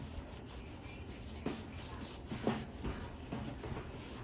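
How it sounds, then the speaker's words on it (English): Cloth rubbing and buffing Turtle Wax onto an item, a soft continuous scrubbing at low level with a few stronger swipes, no voices. "I'm gonna try to get this all polished up, and I'm gonna show you what this turtle wax stuff can do"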